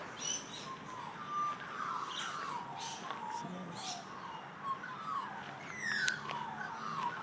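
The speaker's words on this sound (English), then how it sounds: "You can hear the birds in the background." Birds chirp and call repeatedly at a distance outdoors in Earlsferry, several overlapping tweets against a quiet ambient background.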